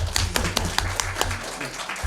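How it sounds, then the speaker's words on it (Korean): A small audience at a policy forum claps, a short burst of sparse, distinct hand claps at an uneven rhythm that thins out after about two seconds, heard indoors at moderate distance. "저한테 좀 박수 좀 쳐주세요"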